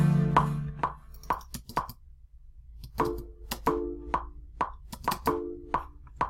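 Soft plucked synthesizer notes from a software instrument library, a calm, mellow pluck preset in a house-beat session, played as a sparse melodic pattern of short decaying notes with gaps between phrases and no talking.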